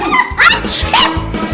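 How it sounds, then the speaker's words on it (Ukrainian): A dog yips and barks in short excited bursts, close and loud, with whimpering tones between barks and no talking. "Та не гавкайте"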